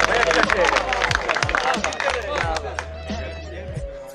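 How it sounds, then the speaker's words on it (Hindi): An audience in a pandal claps at a poetry gathering, a dense burst of applause that thins and fades over several seconds while a voice carries on. "पूरी पंडाल से एक दफा तालियां दुआ"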